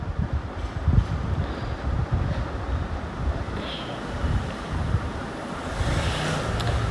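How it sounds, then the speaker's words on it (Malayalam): Sea waves surge and crash against rocks repeatedly at Kanyakumari with a low, rolling roar, mixed with gusty wind noise buffeting the microphone. "ഇവിടെയെല്ലാം കടൽ നല്ല രീതിയിൽ മുകളിലോട്ട് തിരമാലകൾ ആഞ്ഞടയ്ക്കുന്നുണ്ട് കേട്ടോ"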